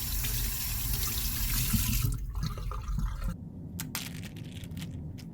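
Cold tap water runs over a frozen bag of homemade ice cream, a steady close rush of water with some crinkling and crunching of the bag that thins out toward the end.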